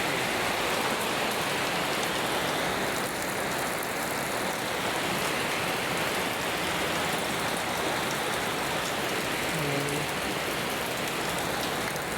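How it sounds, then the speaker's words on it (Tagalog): Steady rain falls on an afternoon, a dense, even hiss of drops on surfaces that stays loud and unbroken throughout, with no voices. "May ulan pa."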